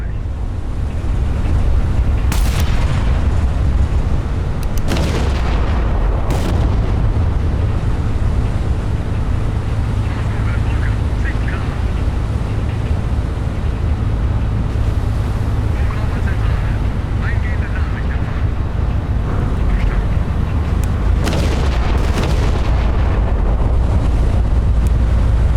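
Naval gunfire and ship ambience from the video game Battleship Command: a steady low rumble of sea and engine, punctuated by several sharp, loud gun reports spaced irregularly through the stretch, with brief crackling bursts.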